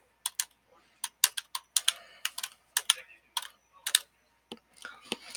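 Quick bursts of keystrokes on a computer keyboard while a post title is typed, irregular clusters of crisp clicks with brief pauses between words, close and fairly quiet.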